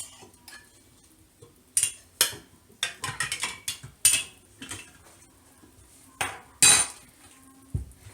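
Glass jars set one after another into a pot of already boiling water while making strawberry jam, giving a run of close, sharp clinks and knocks in irregular bursts, with no talking.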